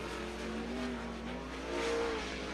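Winged sprint race cars roll onto the Attica Raceway Park dirt oval during Ohio Sprint Speedweek, their engines a steady droning roar with rising and falling pitch. No voices come through.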